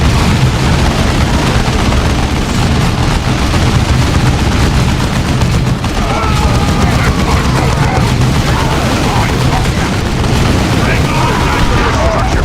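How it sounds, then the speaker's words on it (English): Dense, continuous gunfire and booming explosions from a Warhammer 40,000: Dawn of War II battle roll on without pause, with voices mixed into the din. "Why they all shooting?"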